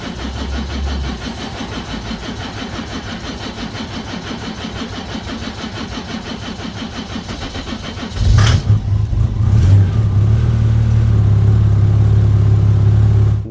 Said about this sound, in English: Today let's check how easy engine will start when outside is plus 8 degrees.